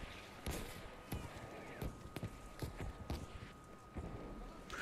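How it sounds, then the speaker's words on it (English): Footsteps in Battlefield 5, a series of close, irregular thuds and scuffs repeating every half second or so over faint background game noise. "I hear footsteps."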